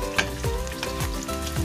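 Onions and other ingredients for creamy laing sauté in a hot frying pan, giving a steady close sizzle with a few faint stirring scrapes and no talk.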